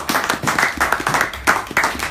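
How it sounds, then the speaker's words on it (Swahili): A church congregation at a Bible study applauds Boaz with loud, close clapping in uneven bursts. The clapping lasts a couple of seconds, with some voices mixed in. "Hebu tupigie Boazi wetu makofi makubwa"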